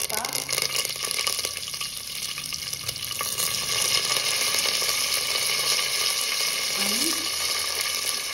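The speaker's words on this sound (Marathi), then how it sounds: "मोहरी तडतडते" Mustard seeds, cumin and curry leaves sizzle in hot oil while tempering for South Indian bisi bele bhat, a steady close crackle and hiss running throughout, with a brief word spoken over it.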